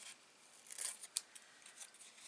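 Paper Christmas card being cut around with scissors, a quiet, brief series of small snips and rustles, one sharper click standing out, with no voices.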